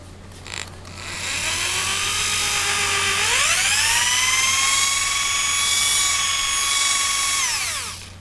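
An electric drill whines as it spins up boring holes in wood, holds a steady high-pitched drone for several seconds, then winds down, loud and close.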